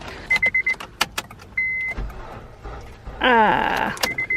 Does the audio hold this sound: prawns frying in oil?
no